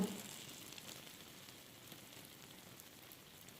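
Honey syrup poured over hot baklava crackles and sizzles softly, a faint, even fizzing that fades slightly after an initial burst, with no talking.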